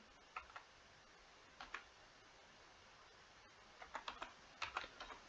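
Quiet clusters of light keystrokes on a computer keyboard as a search term is typed into Pinterest, irregular short bursts of quick taps separated by pauses over a faint steady hiss.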